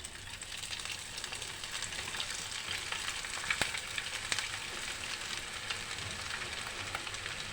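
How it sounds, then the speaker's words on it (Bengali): Small balls of semolina dough for sitabhog sweets fry in hot oil, a dense, even crackling hiss heard up close with a couple of sharper pops midway. "এইভাবে আমি ভেজে নেব।"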